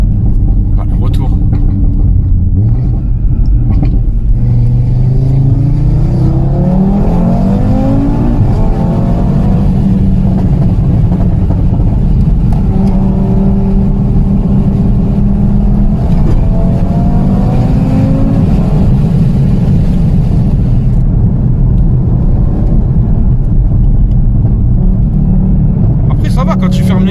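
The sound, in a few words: Audi RS3 stage 2 engine accelerating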